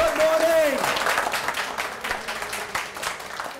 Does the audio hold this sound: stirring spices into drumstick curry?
no